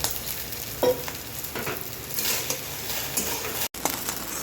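Continuous crackling sizzle of okra frying in a hot pan, with occasional stirring scrapes and clinks, close and moderately loud.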